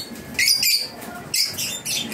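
A caged bird, a hen, gives a few short, bright chirps in quick bursts close by, with brief gaps between calls.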